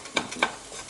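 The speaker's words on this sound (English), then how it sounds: "the sesame pop sound" Sesame seeds frying in a pan, roasted dark for hummus, give two quick crackling pops close by over a soft sizzle.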